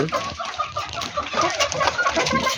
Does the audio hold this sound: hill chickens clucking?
yes